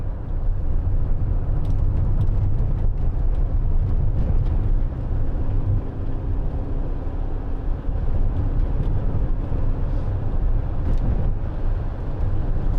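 A Citroen Relay 2.2 HDi 35 Enterprise L3H2 panel van on a test drive gives a continuous low road and engine rumble from inside the cab, steady and unbroken with no talking.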